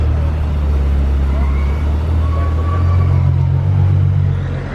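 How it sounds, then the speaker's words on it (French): A dark Mercedes S-Class fitted with a Brabus 700 kit drives past on a street in Monaco, heard as a steady, loud low engine rumble that swells slightly midway and eases off at the end. "Très sombre cette classe S là qui arrive."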